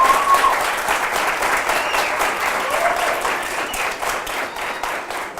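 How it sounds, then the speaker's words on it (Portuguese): A church congregation claps together in steady, sustained applause that fills the room, dense and even throughout with only slight swells. "Você pode dar uma salva de palmas para Jesus?"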